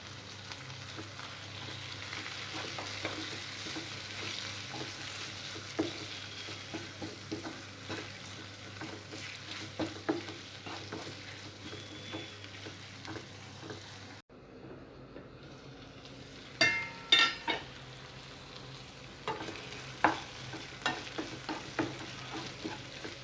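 Tomato pieces fry in onion paste in a pan, giving a steady close sizzle with stirring scrapes. Midway the sizzle softens, then sharper clanks and stirring strokes follow.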